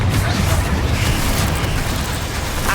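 A Confringo blasting spell goes off in the Hogwarts Legacy video game, a loud, continuous booming explosion with dense low rumble that holds steady for a few seconds.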